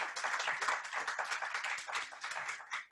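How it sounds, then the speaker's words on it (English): An audience at a young writers' competition presentation night gives a round of applause for a student's story, moderate steady clapping that is fairly faint and tapers off at the end. "I think we can give Ruby a round of applause"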